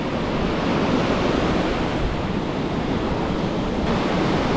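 Sea breeze blowing on a beach during a hot fishing session, a steady broadband rush of wind and surf filling the whole stretch, loud and unbroken with no voices.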